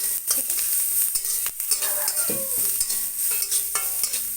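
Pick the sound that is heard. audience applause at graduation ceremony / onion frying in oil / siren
onion frying in oil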